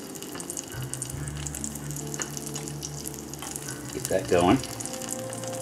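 Chopped Filipino Mexican tree peppers sizzle in hot grease during a home stir fry, a steady frying hiss under a low hum, with a brief spoken remark near the end.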